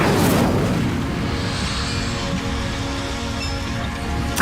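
An Incendio fire spell in Hogwarts Legacy bursts with a loud, booming blast, followed by a long rumbling, crackling roar that slowly settles, ending with a brief sharp pop.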